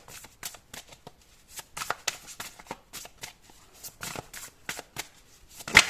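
Tarot cards are shuffled and handled in a quiet room, a rapid series of crisp riffling and flicking bursts at uneven intervals, close and clear, ending in a sharper snap.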